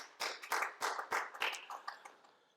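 A worship-service congregation claps together in a steady, fairly quick rhythm, the sound faint and roomy, fading toward the end.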